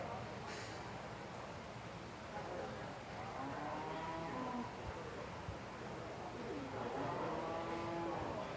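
Holstein dairy cattle low with long, drawn-out moos at a fair's junior dairy show during judging of the spring heifer calves, faint and distant against a steady crowd hum.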